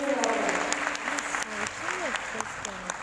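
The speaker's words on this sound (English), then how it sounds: "Please welcome with a big round of applause" A round of applause from an audience at a breast cancer awareness event, heard as steady clapping with sharp hand strikes, while a voice speaks over it throughout.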